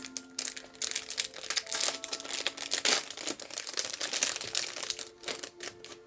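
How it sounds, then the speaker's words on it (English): Crinkling cellophane being pulled off a black cat enamel needle minder, a close, steady run of sharp crackles and rustles lasting several seconds with no talk. "I'm gonna take it out of the cellophane here."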